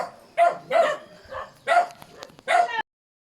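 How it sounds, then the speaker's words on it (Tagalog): A dog on a rural farm barks in four or five loud, close bursts spread over about three seconds, with short gaps between them, and no talking. "ang aso, kahol ang kahol"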